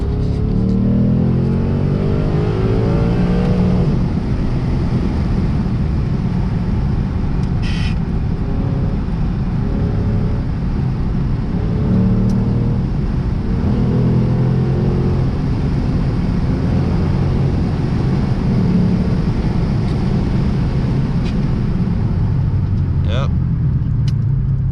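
Lexus RC F with a 5.0 V8 accelerating on a cruise, a steady loud low engine drone rising and falling throughout, with talking over it.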